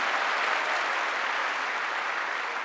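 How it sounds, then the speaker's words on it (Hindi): Crowd at a success day business event gives continuous, dense applause, an even wash of clapping at moderate loudness with no talk over it. "प्लीज इनके लिए जोरदार ताली हो जाए"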